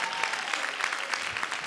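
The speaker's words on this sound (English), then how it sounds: "Give her a round of applause." An audience at a body-language boot camp event applauds, a continuous dense patter of many hands clapping with no talk over it.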